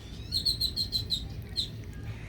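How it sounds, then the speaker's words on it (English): A great-tailed grackle, a big iridescent black bird with an oversized tail, calls in Galveston: a rapid run of about six sharp, bright chirps, then one more after a short pause, moderately close over a low background rumble. "The male great-tailed grackle has an oversized tail, iridescent black and purple feathers, and many call notes."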